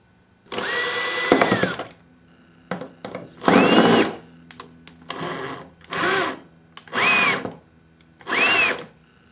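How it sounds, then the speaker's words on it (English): A power screwdriver backs out the six screws of a failed hard drive's case in repeated short whirring bursts, each a second or so, with small clicks and handling noises between them, close and loud without talk. "So we're going to have to remove 6 screws to take apart the case and go inside."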